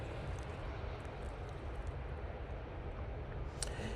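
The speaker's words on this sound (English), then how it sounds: "This is a Ryanair from Cork." Ryanair jet from Cork arriving at Manchester Airport, a steady broad engine roar at moderate distance that holds even throughout, with no talk over it.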